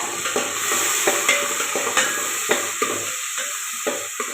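Large green chillies frying in oil while being stirred, a steady close sizzle punctuated by regular tapping scrapes of a spoon against the pan.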